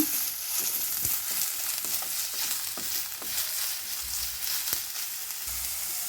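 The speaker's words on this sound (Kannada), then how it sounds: "ಈರುಳ್ಳಿ ಹಾಕ್ಕೊಳ್ತಾ ಇದ್ದೀನಿ. ಇದು ಫ್ರೈ ಮಾಡೋಣ." Onion frying in a pan with fresh ginger and green chillies for Gobi Manchurian, a steady close sizzle with soft crackles and occasional stirring taps, no voices.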